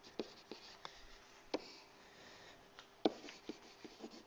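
Marker or chalk writing out a geometry summary on a board or paper, faint scratchy strokes with sharp taps as each letter is started, close and quiet with no talking.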